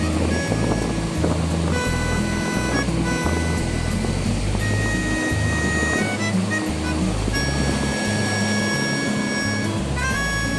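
Ocean waves on a quiet, remote beach make a steady, continuous roar of surf, with music playing underneath throughout.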